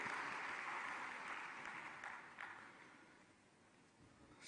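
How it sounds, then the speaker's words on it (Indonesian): Applause from the audience at a mass signing ceremony for KUR (people's business credit) loans, greeting borrowers about to sign; a broad, steady wash of clapping that slowly fades over several seconds. "Mari kita beri tepuk tangan untuk Bapak Ibu yang bersiap menandatangani kredit"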